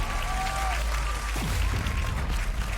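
An esports arena crowd cheers and claps during a Valorant match in the Champions Tour 2023 Americas League, a dense, steady roar of noise that continues under a brief rising tonal sweep.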